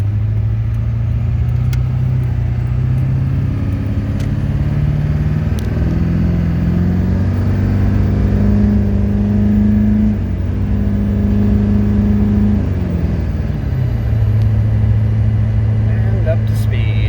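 A Duramax diesel pickup with an Allison transmission pulls away gently from a stop, its engine drone rising steadily through smooth upshifts, the pitch dropping at each gear change; loud and close, with speech over it.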